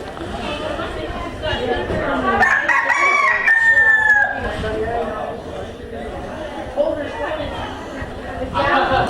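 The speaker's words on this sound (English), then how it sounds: "We have a rooster here who's wants everybody to know he's here" A rooster crows loudly and up close at a school FFA agricultural fair, a single drawn-out call rising and falling above a busy backdrop of people chatting and other poultry clucking nearby.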